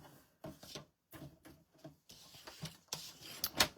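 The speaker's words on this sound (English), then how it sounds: "So we get the trimmer back out and we're just going to cut 1/2 inch." A paper trimmer slices a half-inch strip while making an Easter basket craft, giving a series of short dry rasping and rubbing strokes. The strokes come in bursts, close and moderately quiet, ending in a brighter scraping pass.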